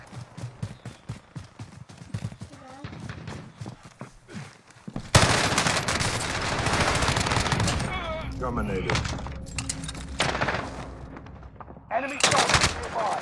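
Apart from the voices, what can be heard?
gunfire in Call of Duty Warzone 2.0 video game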